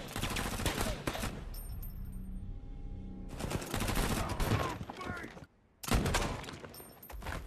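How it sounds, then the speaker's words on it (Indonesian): Gunfire rattles through a film shootout between robbers and police, with dense rapid bursts of automatic fire and scattered single shots, loud and close, broken by a brief lull before another volley. "Namun di luar polisi telah mengetahui pergerakan mereka sehingga terjadilah baku tembak antar mereka."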